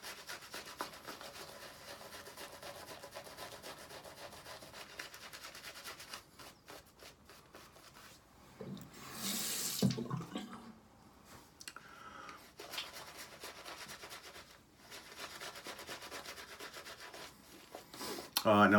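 A shaving brush works cranberry-scented shave soap into lather, giving a steady close-up swishing and rubbing with a louder burst of brisk whipping midway, alone without talk.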